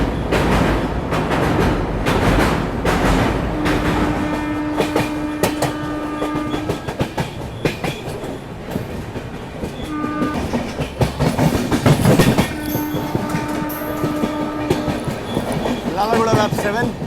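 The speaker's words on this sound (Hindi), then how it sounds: "क्या जबरदस्त ओवरटेक रणथंबोर द्वारा" Ranthambore Express train overtaking on the adjacent track, heard from inside a moving train: a dense rhythmic clickety-clack of wheels over rail joints with rumble and brief squeals, close and loud throughout.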